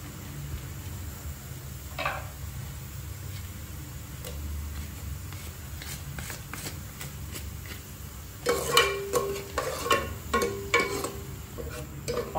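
Butter melting in a hot pan for pav bhaji, with a soft low sizzle and faint ticking that turns into a louder, crackling spatter in the last few seconds, close by with no talking.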